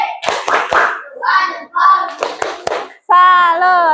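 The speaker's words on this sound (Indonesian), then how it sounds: "Tepuk salut." A school class performs a rhythmic salute clap, several sharp sharp claps mixed with voices chanting together, ending in a loud sustained group shout.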